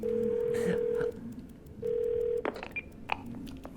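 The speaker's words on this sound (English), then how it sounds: "Let's call Bumblebee again." Telephone keypad dialing in the video game 12 Minutes: two long steady tones separated by a pause, followed by a quick series of short beeps and clicks at moderate volume.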